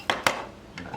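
Two quick metallic clinks close by as a small blade is set onto a meat grinder, followed by a faint third clink and a quiet kitchen pause.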